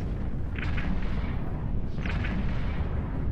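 Spaceship guns fire in the Eve Online space game, two pairs of quick, muffled shots over a steady low rumble, fairly faint.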